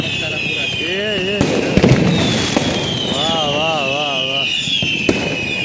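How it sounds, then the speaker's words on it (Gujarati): Diwali firecrackers and fireworks go off in sharp bursts amid steady crackling and whistling, with a loud bang near the start and another near the end; people talk and cheer over them. "તમે આવી ગયા છો ફટાકડા ફોડો જો"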